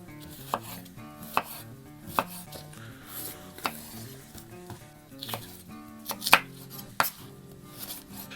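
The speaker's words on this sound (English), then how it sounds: "So I'm gonna go ahead and just slice up all of these peppers." A knife slices bell peppers into quarter-inch strips on a board, crisp cuts landing roughly every second, close and clear over faint background music.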